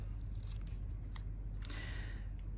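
Scissors snip through paper or card while trimming a card holder, a few quick close cuts over a steady background hiss.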